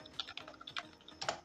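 Quick, irregular typing on a computer keyboard while product names are entered into an Excel bill, a cluster of light clicks followed by a brief pause and a final burst of keystrokes, close and fairly quiet with no talking.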